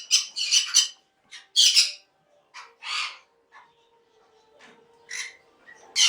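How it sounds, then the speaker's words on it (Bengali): Yellow-sided and pineapple conures at a conure farm give harsh, close squawks in quick bursts of two or three, with short pauses between calls and a faint background hum. "এখানে একটা ইয়েলো সাইডের সঙ্গে পাইনাপেলের পেয়ার রয়েছে"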